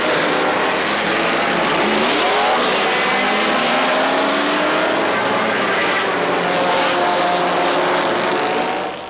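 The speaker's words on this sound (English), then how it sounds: "In 1949, sports car racing is off to a fine start with the revival of the 24-hour Grand Prix of Endurance" Sports race cars roar past at the 1949 Le Mans 24-hour endurance race, a loud sustained engine drone with rising and falling pitch as cars pass, on an old, hissy recording.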